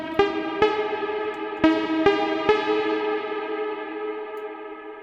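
A plucky techno synth in Ableton plays short repeated notes with a lengthened decay, each bright hit ringing out with echo and distortion before fading, clean and alone.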